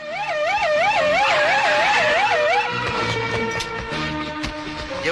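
An ambulance siren used to rush organ-transplant and critical-surgery patients wails loudly in a fast rising-and-falling sweep for under three seconds, then gives way to a noisier, less distinct passage with the siren fading into traffic-like sound.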